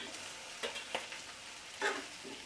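Chopped tomatoes frying with vegetables in a pan for pasta, a quiet continuous sizzle with a few soft stirring scrapes and clinks scattered through it.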